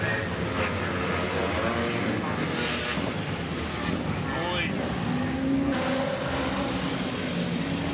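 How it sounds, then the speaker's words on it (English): Velocette motorcycles race past at a street race in Methven, a steady loud engine roar filling the whole stretch with passing swells, while someone talks over it. "And Velocets as well. Beautiful bikes. And they sound awesome as well."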